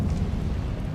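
A Confringo blasting spell exploding in Hogwarts Legacy, a brief heavy rumbling boom, loud and close, heard alone without talk.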